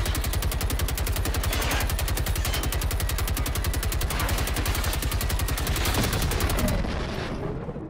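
Sustained rapid gunfire from a Generation Zero firefight, dense automatic bursts clattering loudly and continuously for most of the stretch before tapering off near the end.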